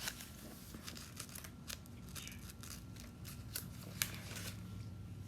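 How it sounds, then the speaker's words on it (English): Thin Bible pages rustle and crinkle in a series of soft, close, dry flicks and scrapes, quiet and alone. "Sorry, I can't get the page turned."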